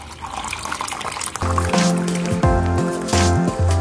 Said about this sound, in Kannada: ಇಲ್ಲಿ ನಾನು ಒಂದು ಟಂಬ್ಲರ್ ಅಥವಾ ಕಂಟೈನರ್ಗೆ 1 ಲೀಟರ್ನಷ್ಟು ನೀರನ್ನು ಹಾಕ್ತಾ ಇದ್ದೀನಿ.